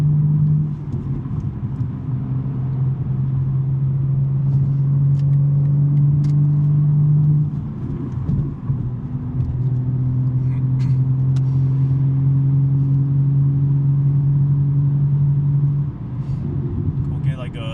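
A BMW M3 with a six-speed manual transmission, driving along with a steady low engine and exhaust drone that sustains, dips briefly, then resumes, under continuous talking.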